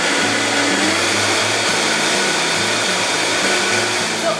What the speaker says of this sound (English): Once everything's in the blender, all you do is just set it to high and blend until it's well incorporated.